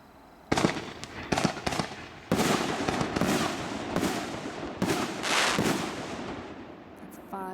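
Excalibur canister firework shells fired from high-density poly tubes burst outdoors at a demo: a series of loud, sharp booms about a second apart, each followed by crackling decay, with faint voices between.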